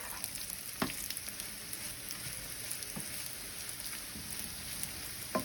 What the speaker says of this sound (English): we're gonna stir for a little while until the tortillas are brown